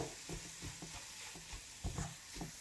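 Soft, rhythmic scraping of a spoon stirring garam masala and spices frying in a pan, quiet and close, with no one speaking.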